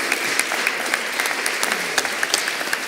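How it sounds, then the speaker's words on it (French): Steady, dense applause from an audience honouring a speaker at a forum, many hands clapping together at close range throughout. "On applaudit Nicolas et le géocaching."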